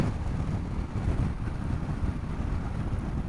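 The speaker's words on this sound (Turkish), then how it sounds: "sağ tarafımdan öyle bir rüzgar geliyor ki motoru zor zapt ediyorum" Heavy wind buffeting a motorcycle-mounted microphone while riding a Yamaha Tenere 660Z, a constant low rumbling roar with gusty fluctuations and no speech.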